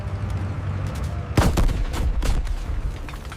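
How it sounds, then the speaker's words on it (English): Armored vehicles fire on defensive positions in a city battle, with sharp, loud gunshot bursts and booms hitting in quick succession over a rumbling background. "The armored vehicles open fire toward the airborne defensive positions."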